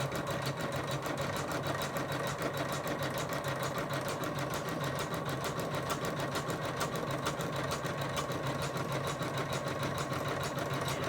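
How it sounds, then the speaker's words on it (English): A Janome embroidery machine sews a blanket stitch around the edge of a lace coaster, its needle chattering in a steady, fast, continuous rhythm at close range with no talk. "So now I put it back under the needle to do the blanket stitch, which is just going to finish off the fabric edges."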